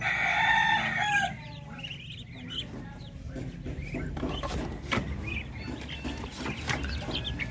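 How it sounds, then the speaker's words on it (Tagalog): Chickens cluck and chicks peep nearby, with a rooster crowing, overlapping calls and scattered chirps throughout. "Dito pa yung ating mga sisiyo na darag."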